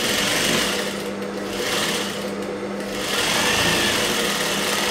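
A sewing machine runs steadily, stitching the waistband band onto a blouse, with a continuous whirring hum that swells and dips slightly over the seconds.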